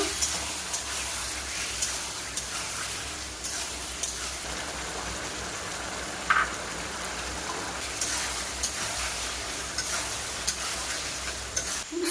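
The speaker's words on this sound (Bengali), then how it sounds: "এবার মশলা ছাটকে কিছুক্ষণ এইগুলি কষে নেব" Meat pieces with spices are stir-fried in a pan, producing a soft, steady sizzle with repeated scraping stirs and small clinks throughout, fairly quiet and close.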